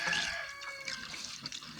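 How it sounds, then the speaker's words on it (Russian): Water runs steadily into a farm pond, a continuous splashing trickle heard up close and alone for about two seconds. "Вот смотрите, вода замечательно идет в пруд."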